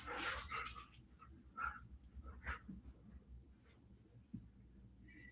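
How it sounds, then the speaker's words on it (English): A Dutch Shepherd dog barks in a few short bursts, then lets out softer whimpers and yips, all close by against a quiet indoor room. "She's a Dutch Shepherd, so she's a cool dog."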